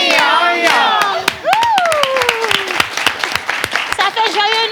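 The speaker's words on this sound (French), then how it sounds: "on va faire le Ping Yong Yong avec des applaudissements pour elle" An audience claps for a woman on a live show, with sharp scattered claps and a burst of cheering and chanted voices running loud throughout.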